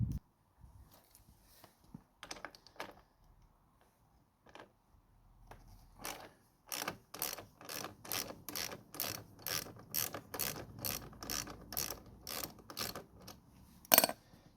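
A ratchet wrench undoes the exhaust canister bolt on a Suzuki Inazuma motorcycle: close, crisp pawl clicks, scattered at first and then settling into a fast, regular run of loud clicks.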